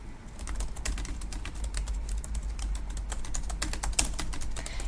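Rapid, steady typing on a computer keyboard, close and continuous, as a repossession write-off note is entered, with no voices.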